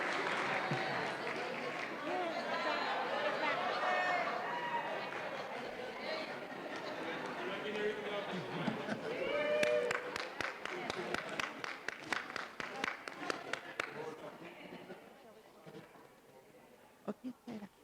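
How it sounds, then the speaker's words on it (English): Audience applauding a school at a district board meeting, a dense wash of clapping with crowd chatter throughout that thins into scattered claps toward the end. "Let's give them a round of applause."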